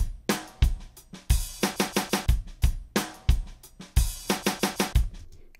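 A duplicated drum loop plays back in an audio editor: punchy kick and snare hits with tight, rapid fill-like rhythms, repeating cleanly with no voice over it.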